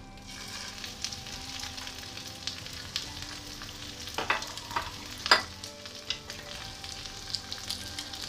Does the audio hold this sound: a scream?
no